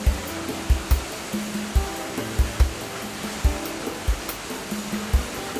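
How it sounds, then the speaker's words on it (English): A machine rewinds wicker cord from small spools onto large ones that feed a loom, making a steady broadband rushing hum with regular rhythmic thumps and clicks, close and continuous with no talk. "The cord is then rewound from the small spools to these large ones that then will be used by the loom"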